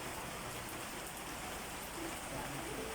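Steady rain falls on garden plants, a continuous, even hiss of drops on leaves and surfaces that stays close and moderately loud throughout, with no voices.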